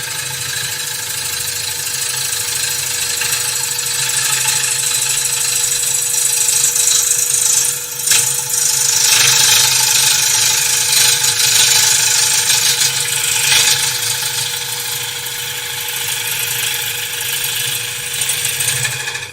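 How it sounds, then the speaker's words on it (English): A wood lathe turns a bowl while a tool cuts it, producing a continuous loud motor hum with a steady scraping, chattering cut layered on top throughout. "So I'm just going to pick the cut up here."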